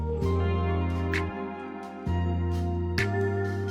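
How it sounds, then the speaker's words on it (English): A sampled flute melody sits over sustained chords and bass in a neo soul beat, with breathy, airy note onsets recurring every second or so at moderate loudness. "Then I just added this flute from Splice."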